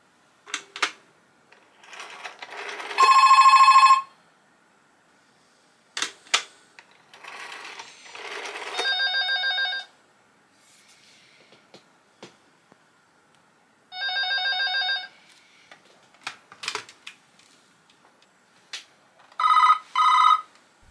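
Several bursts of an electronic telephone ringer from a vintage phone, trilling tones separated by clicks and silence, each ring lasting about a second.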